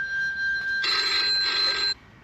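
A phone rings nearby inside a tent in sub-zero winter camping, a steady electronic tone followed by a bright trilling burst about a second long, then stopping.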